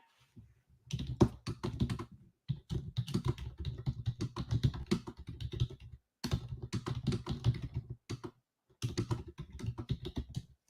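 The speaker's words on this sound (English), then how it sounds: "Now I'm going to type in the group" Bursts of rapid, close typing on a computer keyboard come in several runs separated by brief pauses, with no talking.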